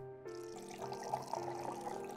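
Water pours into a container from a tap, a soft, steady running stream that starts suddenly and keeps flowing, quiet and close.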